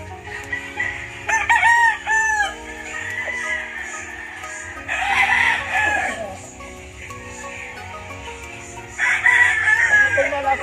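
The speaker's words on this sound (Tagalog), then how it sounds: "O, kita niyo po yung manok ng kapatid ko." On a farm, roosters crow loudly and nearby in three separate calls spread across the span, with softer clucking and chicken noise between them.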